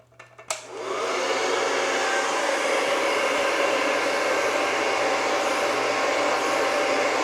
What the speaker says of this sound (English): It just makes it easier to hold the blow dryer.